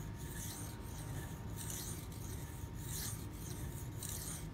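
A knife scrapes across a sharpening stone in repeated rasping strokes, each a gritty hiss, about eight in a steady rhythm, close and fairly quiet.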